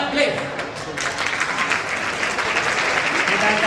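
A loud audience ovation welcomes a singer onto a stage, dense clapping swelling after a brief quieter opening and holding strong, with a voice heard amid the applause.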